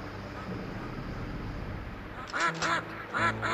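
A hum of game ambience gives way to a series of three or four loud, nasal quacks from evil ducks in Killing Time: Resurrected, a PS5 video game, clustered near the end.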